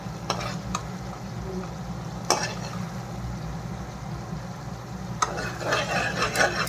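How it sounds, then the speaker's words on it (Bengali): Spice paste for an egg korma made with yogurt, stir-fried in oil that has started to separate, gives a steady low sizzle with soft scraping strokes and a few sharper clinks of the spatula against the pan. "এখন আমি মশলাটা একটুখানি কষে নিই অল্প করে।"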